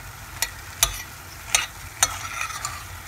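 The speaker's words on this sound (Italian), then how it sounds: "Pure qui faccio amalgamare bene tutti gli ingredienti in modo che prendano il sapore di quello che c'è nella pentola." Pasta with cream, ham and peas is stirred in a pot, with several distinct scraping clacks of the spoon at irregular intervals over a soft background bubbling, close and without talk.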